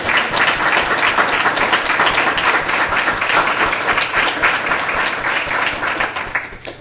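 An audience at a school board meeting applauds loudly and steadily for several seconds, the clapping thinning out and fading at the end.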